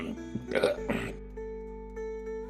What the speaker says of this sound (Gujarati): દારૂની ગંધ છોડતા મોં સાથે જમાદારે જોરથી ઓડકાર ખાધો